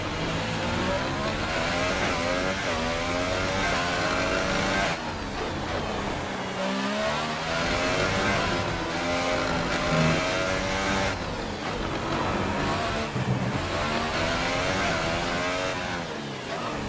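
Formula 1 race car engine in the F1 2018 video game, a loud, high-pitched engine revving and shifting continuously through rising and falling gear sweeps, with no talk.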